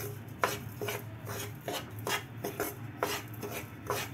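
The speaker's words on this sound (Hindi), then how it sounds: "थोड़ा और इसे चलाएंगे चीनी के साथ" A spoon works whole, unground sugar into a thick Diwali peda mixture made without milk powder or syrup, giving repeated rasping, scraping strokes in a steady, uneven rhythm, close and moderately loud with no talking.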